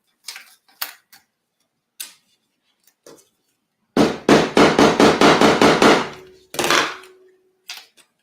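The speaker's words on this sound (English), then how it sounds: "You can hammer leather." Italian leather for a Burcham is struck with a hammer: a few scattered taps, then a quick, even run of about nine sharp, close blows, followed by a couple more isolated knocks.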